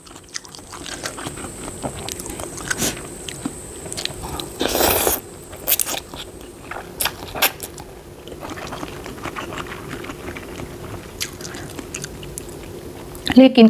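Close, crunchy biting and wet chewing of papaya salad with fresh salmon, irregular bites and mastication up close over faint background noise.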